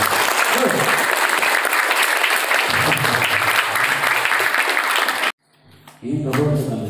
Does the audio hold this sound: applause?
yes